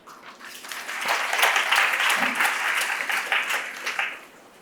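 YFLO team members in an audience clap and cheer, applause swelling quickly, holding steady and strong, then tapering off near the end.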